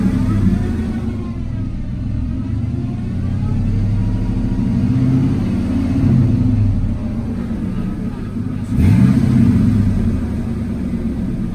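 Car engine with a suspected transmission problem, revving in repeated swells over a constant low rumble, heard close up from the car.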